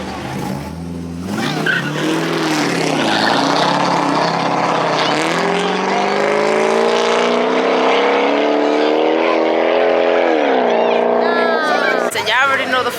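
Street racing cars in Mexico, engines revving hard with rising and falling pitch and tire squeal, loud and close throughout, with people talking over the noise.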